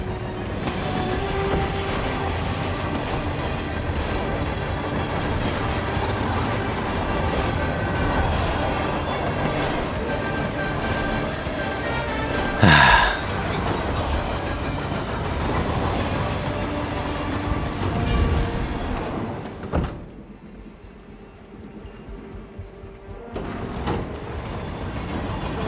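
A train rolls along steadily in a video game, a continuous loud rumble with rattling carriage noise and a brief sharp squeal midway, then the sound drops away to a quieter hum near the end.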